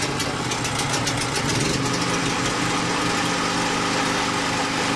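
A generator engine runs at a steady, loud drone with constant vibration and no change in pitch; it is installed in a separate room at an apartment building, with exhaust vented outdoors, and nobody speaks over it.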